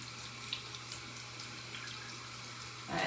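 Running tap water flowing steadily over a makeup brush being rinsed, a soft continuous splashing wash with faint drips and a brief louder gush at the end, heard alone.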